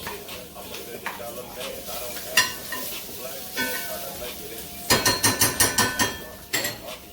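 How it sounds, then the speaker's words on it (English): Loud, steady sizzling of corn frying in a hot pan, with scraping and clattering of a utensil against the pan in bursts. "Nice hot pan. Once again, we want to hear that sizzle."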